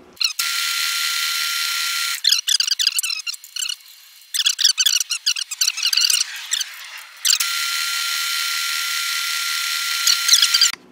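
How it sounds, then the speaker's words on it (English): A drill press bites into a steel parallel with long steady high-pitched whining stretches, broken by choppy squeaks and chatter as the bit cuts, then a final sustained whine. "Then I'll take them over the drill press and finish them off."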